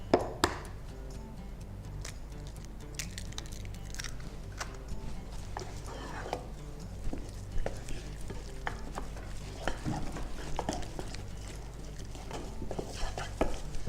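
A spoon beating egg into churro dough in a bowl, a soft, irregular wet slapping and scraping that keeps going, fairly quiet over a low background hum.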